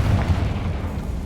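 Confringo explosion spell in the Hogwarts Legacy video game, a deep booming blast with a heavy low rumble that fills the whole moment, loud and close.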